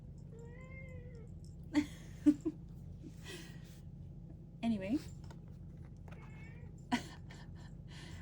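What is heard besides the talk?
cat meowing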